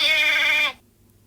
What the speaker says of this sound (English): I see a mountain goat climbing near me.